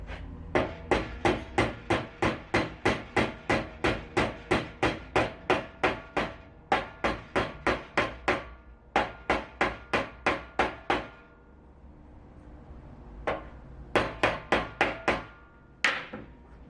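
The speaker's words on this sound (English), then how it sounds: "Finish it with the hammer." Sharp metallic hammer blows in steady rapid runs, close by, bending a softened copper ring held in a vise, with a few short pauses between bursts and no talking.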